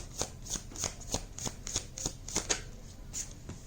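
Tarot cards shuffled by hand before drawing the next card, a steady series of about a dozen soft, crisp riffling flicks at a regular rhythm, close and quiet, with no talking.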